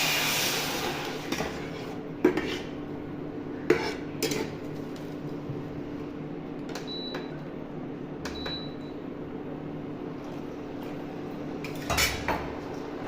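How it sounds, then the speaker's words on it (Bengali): A spoon stirs sweet, sour and spicy grape chutney with Kashmiri chili powder in a metal pan, giving sparse, sharp clinks and scrapes against the pan over a quiet, hissy kitchen background. "ভালো নাড়াচাড়া করে নিয়ে দিয়ে দেবো এতে জল।"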